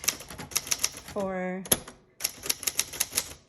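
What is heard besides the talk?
typing on a 1968 Adler J4 typewriter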